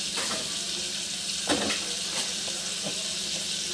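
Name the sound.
water being poured into semolina in a pot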